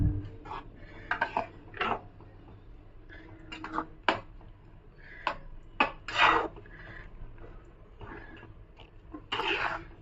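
Spoon stirring idli spice powder into a village-style Andhra telaga pindi curry in a pan, with scattered metallic scrapes and clinks against the pan, close and fairly quiet, arriving in irregular bursts.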